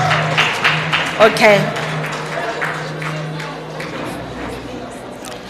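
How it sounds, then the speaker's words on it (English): An audience claps for school pupils posing for a photo at an education district awards function, producing steady, moderate applause beneath someone speaking over a microphone. "Ladies and gentlemen, let's applaud to them as they are taking a photo."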